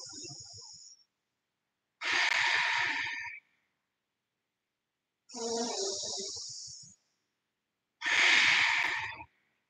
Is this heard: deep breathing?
yes